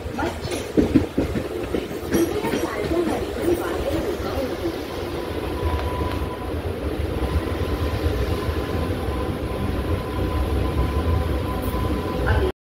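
A Mumbai Harbour line local train runs between Masjid and CSMT, a steady rumbling roar with rail clatter and rattling carriages, loud and continuous with voices now and then.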